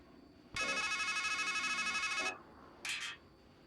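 Ringing payphone in the video game Strangeland, a loud electronic trilling ring lasting nearly two seconds, then a short second burst after a brief pause, heard alone and close.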